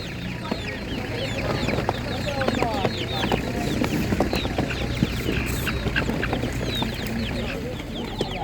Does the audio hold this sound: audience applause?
no